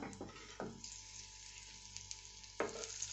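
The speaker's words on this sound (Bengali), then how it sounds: "বেশি করে দিয়েও ভাজতে পারা যায় আমি একটাই দিলাম খুব একটা তেল দিইনি তো সেই জন্য" A snack fries in a small amount of oil, giving a steady soft sizzle with occasional stirring bumps and scrapes, close and fairly quiet.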